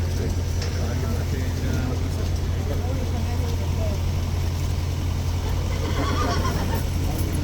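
A police horse stands on a rainy London street, with a steady wash of rain and traffic and a faint whinny buried in the constant noise.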